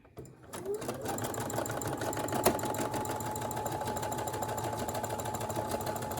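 A Brother SE1900 sewing machine runs with the R blind stitch foot, starting after a brief pause and then humming and clattering steadily at an even stitching rhythm, close and fairly loud.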